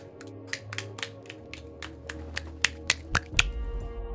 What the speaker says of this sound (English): Clapping my hands to the mic.